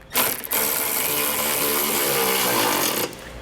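Power tool with a 15 mm socket runs in one loud continuous whirring burst of about three seconds as it snugs the hardware of an EcoHitch Invisi trailer hitch receiver on a 2021 Tesla Model Y.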